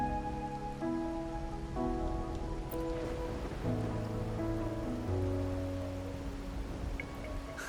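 Steady rain falls on a rainy night in Wuthering Waves, a continuous soft hiss of drops spread beneath gentle, sustained music.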